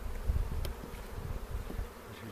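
Honeybees buzz steadily and close by during an April beehive inspection, a dense continuous insect drone with no voices over it.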